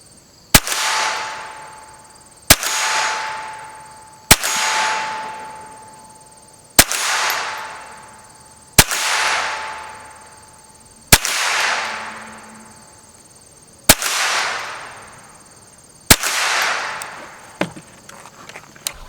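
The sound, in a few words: gunshots from Henry AR-7 survival rifle at 25 yards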